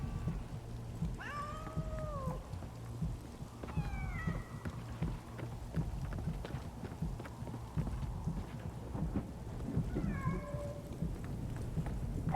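A cat in the World War I game 11-11: Memories Retold gives three drawn-out meows spaced several seconds apart, mid-distance, over a steady background of rain-like patter and clopping footsteps.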